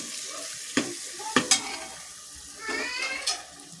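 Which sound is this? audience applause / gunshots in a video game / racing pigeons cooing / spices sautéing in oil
spices sautéing in oil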